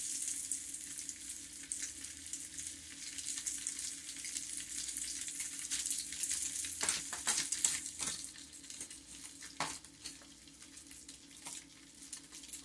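Breaded tilapia fillets fry steadily in hot oil with a constant close-up sizzle and crackle, occasional sharper pops rising above it, with no talking throughout.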